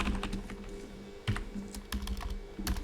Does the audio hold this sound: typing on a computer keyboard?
yes